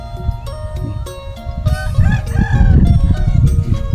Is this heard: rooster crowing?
yes